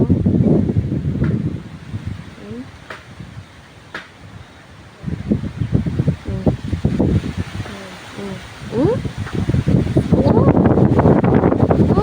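Strong storm wind ahead of rain buffets the microphone in loud, gusty bursts, with quieter lulls between and some rustling.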